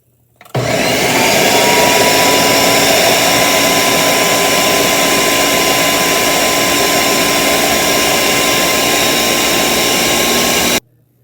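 A blender runs on high, blending banana and honey with water into a smoothie, a loud steady whir that starts abruptly, holds constant for about ten seconds, then cuts off, with no talk.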